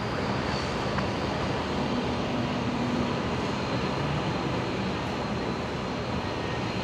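Airliner taking off from runway 01 right at Brisbane Airport, a steady, broad engine roar that holds level throughout with no talk over it.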